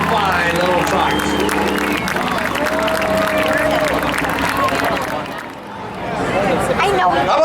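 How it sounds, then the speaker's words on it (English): Crowd of spectators at Beech Ridge Motor Speedway truck drag racing at night clapping and cheering, a dense patter of applause mixed with loud chatter and an announcer's voice. "A round of applause for Mark Puddle"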